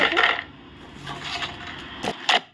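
Crispy homemade kurkure snack made from fried leftover rice and tossed with salt crunches up close in a few sharp, crackly bites, with quiet pauses between them.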